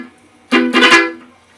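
Fast palm-muted picking on guitar in a down-down-up-down pattern, heard as a short, dense burst of chugging strums lasting about half a second, played alone after a brief quiet lead-in.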